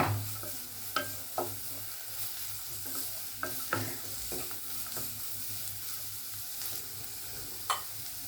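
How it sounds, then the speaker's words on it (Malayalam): Carrots and beans sautéing in a pan for Indian-style masala pasta: a steady close sizzle with occasional sharp clicks of a spoon stirring against the pan, no talking. "ഒന്ന് വഴറ്റുക."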